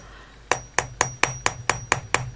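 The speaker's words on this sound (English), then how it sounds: "So the nylon hammer, you can see, isn't changing that round profile of the wire at all." A nylon hammer strikes wire on a steel bench block in eight sharp, evenly spaced taps, close and crisp, with brief ringing after each.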